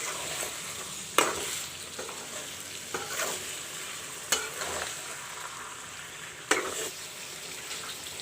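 Mutton and masala frying in a pan, a steady low sizzle broken by a few sharp scrapes and knocks of a spoon stirring against the metal, close and moderately quiet, with no talking.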